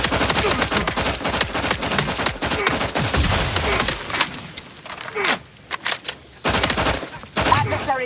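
Sustained, dense bursts of automatic gunfire in The Outer Worlds 2, loud and close, rattling continuously before breaking into shorter volleys and brief pauses.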